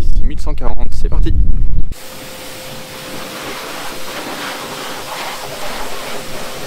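Water spray hisses steadily while a Mackie 6140 tractor is being washed, a broad close spray noise that follows a brief burst of talk at the start.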